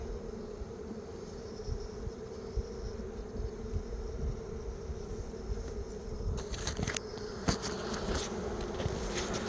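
Honeybees drone steadily around an open beehive during a hive inspection, a continuous close buzz that holds throughout, with a few brief handling knocks near the end.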